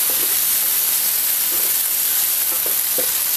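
Tomato sautéing in a pan for a village-style brinjal masala, a loud, continuous bright hiss of frying close by, with faint stirring scrapes now and then.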